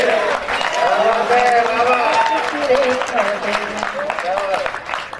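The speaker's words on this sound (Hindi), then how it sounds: "तालियां कम आ रही हैं।" An audience at a Hindi poetry recital applauds, a scattered wash of clapping from a modest crowd, heard under a man's sing-song voice that carries on throughout.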